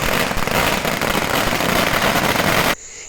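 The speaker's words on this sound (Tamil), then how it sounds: "ரசிகர்கள் பட்டாசு வெடித்து கேக் வெட்டி மகிழ்ச்சியை வெளிப்படுத்தினர்" Firecrackers set off by fans at a film celebration crackle in a dense, loud, continuous burst of rapid pops that cuts off abruptly near the end.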